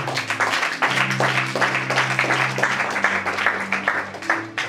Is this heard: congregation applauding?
yes